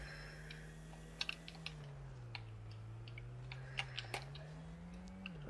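Keys tapped on a computer keyboard while playing Rocket League: sparse, light clicks scattered across a few seconds, faint against a steady low electrical hum.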